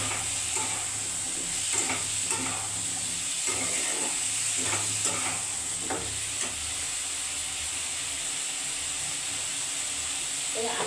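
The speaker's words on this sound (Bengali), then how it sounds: "আর এই বাটা মশলা, লবণ দিয়ে কিন্তু আলুগুলো সব কষে দিচ্ছি" Potatoes being sautéed in a pan with ground spice paste and salt for a Bengali fish curry with potato and eggplant, a steady close sizzle with repeated scraping stir strokes throughout, with faint background voice.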